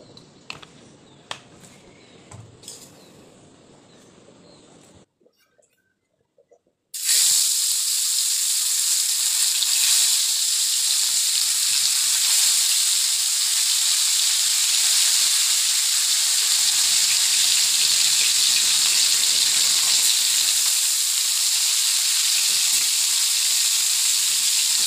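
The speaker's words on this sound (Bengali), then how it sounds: "এই তাওয়াটাতেই ভাজবো, এটাতেই মাছ ভাজা ভালো হয়।" Fish fries in mustard oil on a tawa: after a few quiet clinks and a short pause, a loud, sudden sizzle erupts and holds as a steady, close hiss for the remaining twenty seconds.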